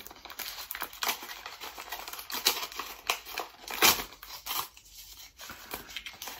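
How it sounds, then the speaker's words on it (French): Nickel bank card package being opened by hand, with a steady run of crinkling, tearing and snipping-like rustles close up, a few sharper crackles standing out, and no talking. "Nous allons ouvrir cette carte ensemble."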